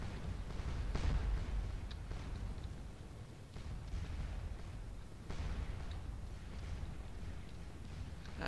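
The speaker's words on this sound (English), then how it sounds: "that is the artillery" Napoleonic artillery fire on a Battle of Waterloo battlefield in a video game, with deep booming cannon reports rolling over a dense, continuous rumble of distant battle noise.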